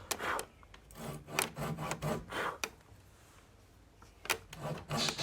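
Hand saw cutting thick timber at an angle, slow rhythmic rasping strokes close by, a short pause midway, then the strokes resume.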